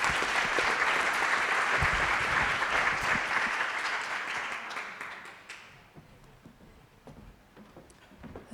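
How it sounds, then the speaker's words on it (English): Loud applause from a crowd at a conference closing ceremony fills the room, holding steady for several seconds before tapering off to scattered claps and quiet. "I would like to invite you to once again applaud him for this recognition"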